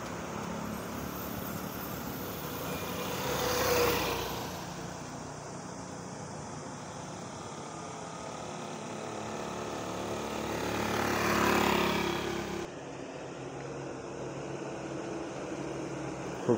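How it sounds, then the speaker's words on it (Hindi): A loaded Ashok Leyland BharatBenz truck carrying an iron-wire load rolls slowly downhill, giving a continuous low rumble with two broad swells as vehicles pass, heard from a distance without speech. "बहुत ही खूबसूरत गाड़ी नीचे उतरती हुई अशोक लेलैंड की बनाई भारत बेंच।"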